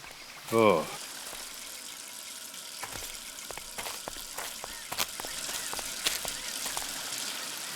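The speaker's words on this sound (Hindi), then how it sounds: "यहाँ पे पानी की पाइप फटी हुई है" Water gushes and hisses steadily from a burst pipe, a constant broadband rush with scattered clicks and splashes, and a voice briefly calls out near the start.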